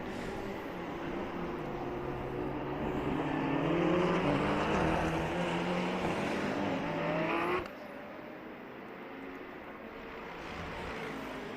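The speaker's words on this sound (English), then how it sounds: "So the MG GT2 lapping another slower car." An MG GT2 race car at the Red Bull Ring endurance round, passing a slower white KTM GT4 car on track, makes a loud sustained engine roar that swells and then drops off sharply as the cars go by.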